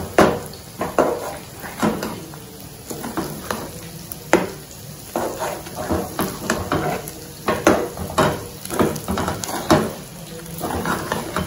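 Gram flour cutlet batter is poured into a hot pan and fries with a steady close sizzle, broken by repeated scraping and stirring knocks of a utensil against the pan.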